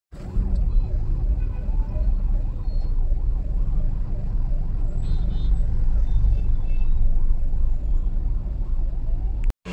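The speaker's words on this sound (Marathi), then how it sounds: "आणि कंटिन्युअस सायरन वाजत आहे ह्याचा" An ambulance siren wails steadily in a repeating up-and-down pattern over the constant rumble of engines in heavy traffic.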